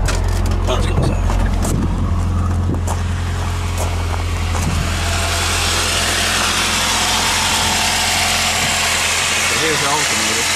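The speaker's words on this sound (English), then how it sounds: "I'm gonna show you guys what a bad alternator bearing sounds like. Let me start her up." A 1995 Saturn S-series car engine idles with a bad alternator bearing, giving a loud, continuous, close rumble with a steady hiss across the whole stretch; any whine is not clearly separable.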